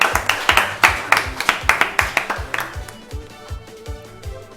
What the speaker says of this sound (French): Eh bien, on m'applaudit, c'est moi qui avais la réponse.